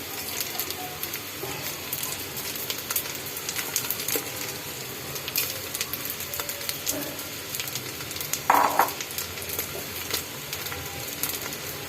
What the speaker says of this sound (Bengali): তাহলে দেখো একদম ঝুরঝুর হয়ে গেছে মনে হচ্ছে একদমই শুকনো চাল ডাল আমি দিচ্ছি